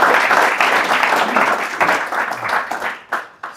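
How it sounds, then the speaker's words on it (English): An audience at a business talk applauds a guest speaker, a full round of clapping that thins out and trails off into a few last scattered claps. "Big round of applause for Andrew."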